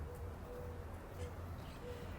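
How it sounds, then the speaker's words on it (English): Pigeons coo softly in a romantic spring park in Barcelona, low repeated calls that surface a few times over steady distant city background noise. "look at the little pigeons sing."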